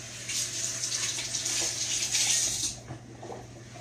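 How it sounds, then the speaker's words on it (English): Hands are rinsed under a running kitchen tap, a steady close hiss of water for nearly three seconds before the flow stops, leaving light splashes and handling sounds. "Let me rinse my hands off."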